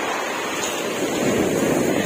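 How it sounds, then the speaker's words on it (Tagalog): Strong sea waves wash onto the shore at Dingalan, Aurora, in a continuous loud rushing surge mixed with wind buffeting the microphone, with no talking. "hinabutan tayo mga person ng alon oh, sa lakas ng alon"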